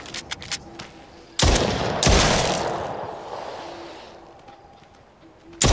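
Gunshots in the VR game The Brookhaven Experience: a few light ticks, then two loud close blasts with long decaying tails, and a third shot at the end.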